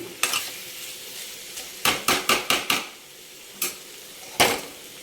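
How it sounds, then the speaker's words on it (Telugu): Prawns fry in a pan for a Telugu tamarind curry while a metal spoon stirs and scrapes them. The scrapes come as sharp clinks, one a bunch of quick rhythmic strokes, over a soft sizzle. "ఇదిగోనండి, రొయ్యలు చక్కగా వేగిపోయినాయి"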